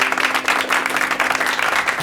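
A studio audience claps for a contestant who has just won prize money on a quiz show, a short burst of steady, fairly loud applause with no talk over it.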